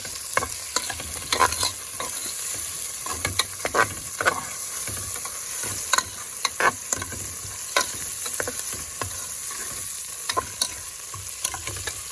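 Ginger, tomato, green chili and fenugreek seeds sauté in a pan for a Kerala-style soup, with a steady sizzle broken by frequent scraping stirs and clinks of the spoon, close up and with no one talking.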